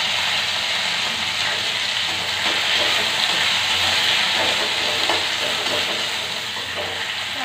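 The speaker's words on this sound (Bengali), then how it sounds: "কারি পাতাটা ভাজা হোক।" Curry leaves fry in a little oil in a wok in a home kitchen, producing a loud, continuous, close-up sizzle with a hissing spit that holds steady throughout.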